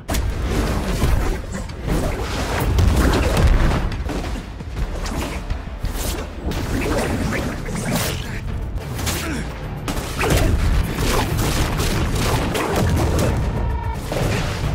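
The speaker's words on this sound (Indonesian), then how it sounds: "Bola-bola energi yang meledak ini sangat merepotkan Kurama. Dia tetap menyerang. Ledakan terjadi di mana-mana." Energy balls explode in an animated series battle, a loud, continuous barrage of overlapping booms, blasts and whooshes that rises and swells over about fifteen seconds.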